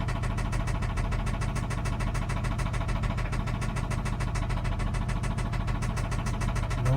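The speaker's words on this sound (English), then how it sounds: "Engine knock, would the engine knock change like that?" A 2003 Infiniti I35 3.5L engine runs with a rapid, even ticking knock repeating over a steady idle drone, close and constant throughout.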